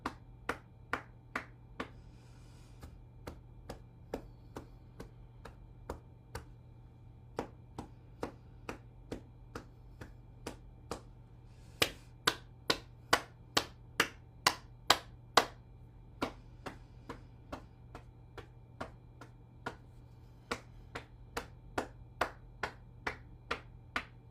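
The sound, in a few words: hand clapping exercise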